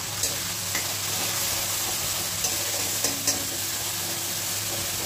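Steady sizzling of kakrol frying in a pan as a cashew, melon seed and poppy paste goes in, with a few soft spoon taps and stirring scrapes over the constant hiss.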